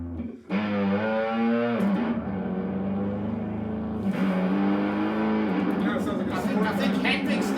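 A distorted electric guitar imitates a motorcycle, rising pitch sweeps like revving and shifting gears, loud and continuous with no talking.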